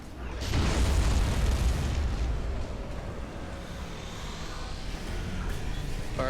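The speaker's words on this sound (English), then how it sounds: "Okay, I'm blasting my cannons." Warship cannons fire in a naval video game, a loud booming blast at the start rolling into a long rumbling decay, with faint later pops and no talking.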